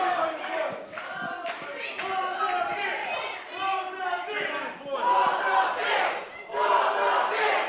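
Wrestling crowd at a Coastal Empire Wrestling casino rumble chanting insults in unison, loud rhythmic shouted voices close and continuous throughout.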